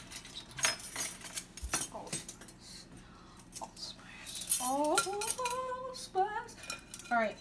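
A metal measuring spoon clinks and taps lightly against a container several times while allspice is measured out for lebkuchen, with a few brief vocal sounds nearby.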